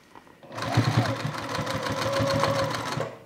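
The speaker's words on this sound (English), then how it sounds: "Sew a few times back and forth because we want it to be pretty strong." A sewing machine stitches back and forth on a fabric toiletry bag, running in one continuous close, loud whirring burst with a rapid needle clatter, starting and stopping cleanly.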